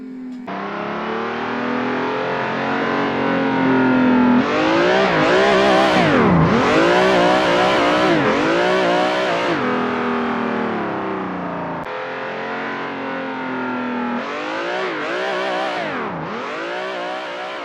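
A drift car's engine revs hard and loud as it accelerates, rising and falling in repeated sweeping pulls with a gritty, distorted tone, close by and with no talk over it.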